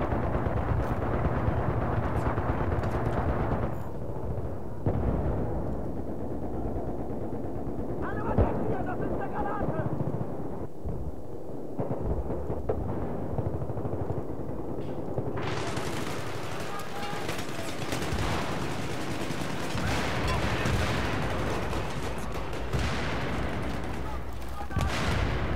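Gunfire and grenade blasts in the Battlefield 3 multiplayer shooter, dense rolling bursts and booms that build into a loud, sustained barrage near the end, with voices talking over the action.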